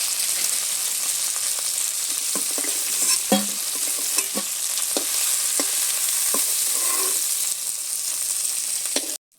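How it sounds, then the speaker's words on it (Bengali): Pond fish and crabs fry in oil in a pan, a steady dense sizzle throughout, with occasional scraping and knocking as the pieces are stirred and turned. "মাছ কাঁকড়াগুলো সব পিঠ এভাবে নেড়ে চেড়ে আমি সব পিঠটাই সুন্দর করে ভেজে নিয়েছি।"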